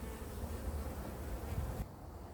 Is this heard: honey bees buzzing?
yes